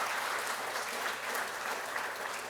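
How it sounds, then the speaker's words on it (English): An audience claps for poetry at a university keynote address, a sustained, dense round of applause heard alone and evenly loud throughout. "Everybody, give poetry a round of applause."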